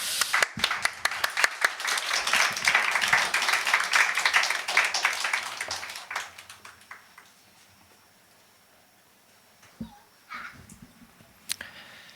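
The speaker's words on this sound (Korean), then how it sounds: "우리 나오실 때 큰 격려의 박수 하겠습니다." A church congregation claps loudly and steadily for about six seconds to welcome a pastor to the pulpit for his final Sunday sermon, then the applause fades into a quiet room with a few scattered sounds.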